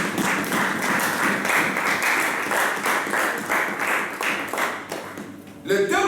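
A church congregation claps together in steady, dense applause that fills the room for several seconds, then fades as a voice begins to speak near the end.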